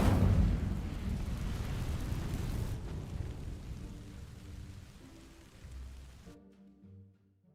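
A fire spell cast in the video game Hogwarts Legacy, a loud, roaring whoosh of flame that bursts at once and then slowly crackles and fades over several seconds, ending in a softer rumbling tail.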